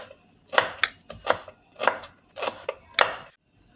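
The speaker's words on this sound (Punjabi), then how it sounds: "ਹੁਣ ਆਪਾਂ ਇਹ ਧਨੀਆ ਕੱਟਦੇ ਆਂ ਧਨੀਆ ਨੂੰ ਤੁਸੀਂ ਬਰੀਕ ਕੱਟ ਲੈਣਾ ਹੈ" A knife finely chops fresh coriander on a board in six or seven crisp, fairly regular strokes, close and clear with no talking.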